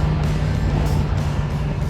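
A 1964 Corvette Sting Ray with a 327 V8 idles in a close, loud, steady rumble with a low drone and a gritty texture, and no one speaks over it.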